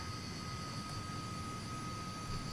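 Just Flight's de Havilland Comet jetliner in Flight Simulator X spools its jet engines for takeoff at Heraklion, a steady loud roar with a high whine held throughout.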